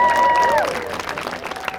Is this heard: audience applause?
yes